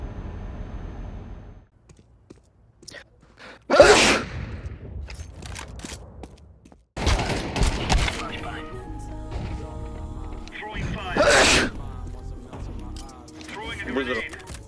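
A person sneezes twice, two sharp bursts spaced several seconds apart, amid a quiet indoor background with some clicks and rustling.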